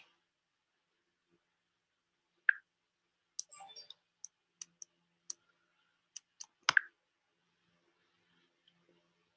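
Mouse clicks during Shopee marketplace account setup: about a dozen quiet, sharp, separate clicks, irregularly spaced over several seconds in an otherwise silent room.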